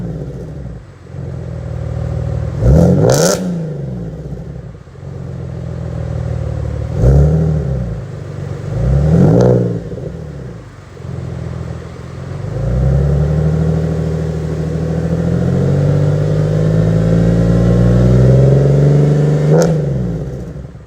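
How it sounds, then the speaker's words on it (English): A 2010 Camaro with the LLT V6 and Hooker Black Heart headers revs repeatedly, loud and close, with sharp blips rising and falling before a longer sustained rev near the end. "So I'm gonna give you a little exhaust clip."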